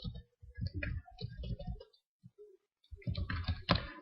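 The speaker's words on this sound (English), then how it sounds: "I'm going to type in average" Typing on a computer keyboard while building database queries, quick close clicking keystrokes in two bursts separated by a short pause.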